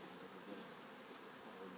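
Honey bees drone in a faint, continuous buzz around an opened hive with brood and fresh honey, a quiet even hum without pauses.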